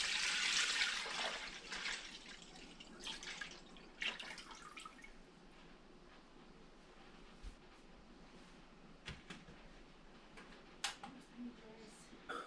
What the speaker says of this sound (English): Alright, so now we're going to add our gallon of milk.